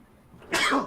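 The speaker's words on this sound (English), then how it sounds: "I'm going to sneeze." A single abrupt, loud sneeze from a person, close to the mic after a brief quiet moment.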